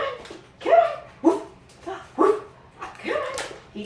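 Dog barking on command, several short sharp barks with whimpery yips between them, close and clear, in a steady stop-start rhythm. A voice speaks at times, and some of the vocalizing may be a person imitating the barks.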